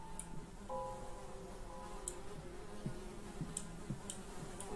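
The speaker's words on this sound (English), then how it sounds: "Like, oh, maybe it's just flies. Yeah, it's just a bunch of flies." Swarm of flies buzzing in the horror game Hellseed, a steady droning hum with faint ticking clicks scattered through it, even and continuous at a low level.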